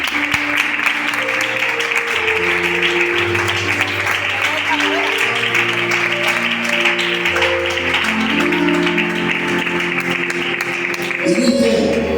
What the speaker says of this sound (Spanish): ¿Quieres dar un aplauso al Señor?